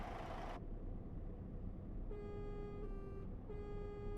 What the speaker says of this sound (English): Whoever has the new air horn, use it.